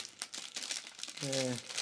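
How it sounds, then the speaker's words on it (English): A small plastic bag holding guitar plectrums crinkles and rustles up close in short bursts throughout, while a person talks briefly partway through. "Okay, so this little plastic bag of plectrums."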